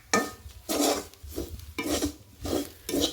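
Beef fry with fennel seeds being stirred in a pan, a spoon scraping in repeated rasping strokes about every half second, close and fairly clear with no talk.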